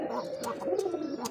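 A pair of pigeons at a pigeon sale coo in low, warbling rolls, broken by a few sharp flutters or chirps, close and fairly quiet with no speech.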